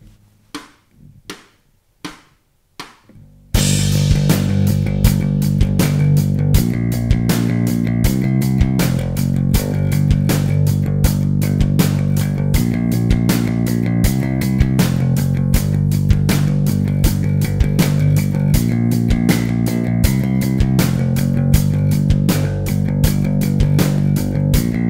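Bass guitar played with a pick, churning out a riff of straight 16th notes with a sharp, even attack on every note, loud and close, after a few sparse count-in clicks, with no talking.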